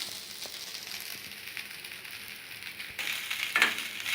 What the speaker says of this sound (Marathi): 2 मिनटं भात गरम होऊ देऊया